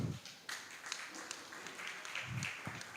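Audience at a skills symposium applauding, fairly faint scattered clapping with a few sharper individual claps and some low murmuring voices underneath.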